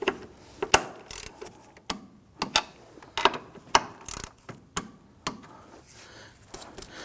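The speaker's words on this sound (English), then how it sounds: "let's go ahead and torque these down to 18 foot-pounds" A torque wrench tightens the front strut bolts on a 2001-2009 Volvo S60. It gives a string of crisp, close ratcheting clicks in irregular bursts, about a dozen sharp ticks with quiet gaps between them.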